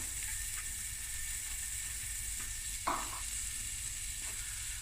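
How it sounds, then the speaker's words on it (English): Chopped onion sizzling in a pan with butter while making pea rice, a steady close hiss with a couple of brief stirring clicks. "now we're going to add about 3 tablespoons of onion"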